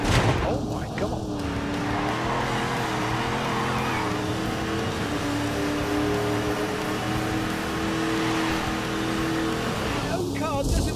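A car engine drones steadily around a racetrack in The Grand Tour video game, with its pitch rising and falling through gear changes and a couple of brief squeals near the start and end.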